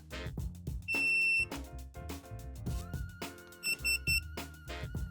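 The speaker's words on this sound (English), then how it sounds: "press a button, and it makes a little beeping noise" A water leak detector's electronic buzzer gives a long beep as it is held to reset, then a quick burst of three short beeps, heard over background music with some clicks.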